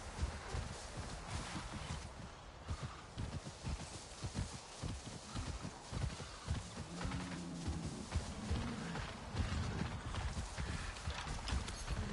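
Horse hooves clip-clopping in the video game Avatar: Frontiers of Pandora, a steady walking rhythm of hoof falls in front of an ambient game background, fairly faint.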